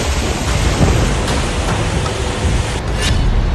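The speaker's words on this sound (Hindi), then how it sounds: "मूसलधार बारिश से आई अचानक बाढ़ ने रेगिस्तान में बसे दुबई को दरिया बना दिया" Heavy downpour during flash flooding in Dubai, a loud dense roar of rain and rushing water with a deep rumbling undertone, continuous and close throughout.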